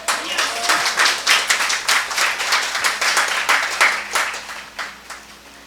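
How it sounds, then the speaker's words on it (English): Close, crisp clapping from an audience at a law college result declaration, a steady patter of hands that gradually tapers off. "And a round of applause, yes."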